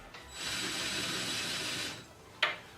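A ratchet fitted with a 13mm socket clicks quietly in one continuous run while tightening grille guard bolts on a Hummer, followed by a single sharp tap near the end; faint and close, with no talk.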